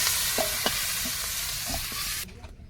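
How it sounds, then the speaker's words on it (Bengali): Large river prawns fry in hot oil in a heated wok, a steady close sizzle with a few clinks of stirring, then the sound drops away near the end; no talking. "কড়াই গরম হয়ে গেছে চিংড়ি মাছটা একটু প্রথমে ভেজে তুলে নেব"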